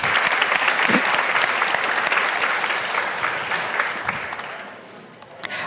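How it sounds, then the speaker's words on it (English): An audience at a talk on presidential elections and democracy breaks into sustained applause, loud and dense at first, then thinning and fading toward the end, with no talking over it. "so yes, clap."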